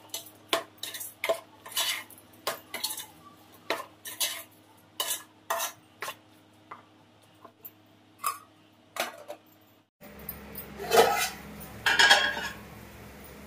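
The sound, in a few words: mixing mutton curry in pot before covering lid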